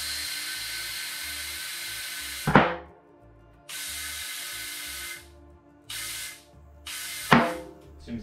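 A pump or compressor hisses air into a tubeless bike tire with sealant through a Presta-to-Schrader adapter. Several long, steady bursts stop and start, with sharp clicks between fills.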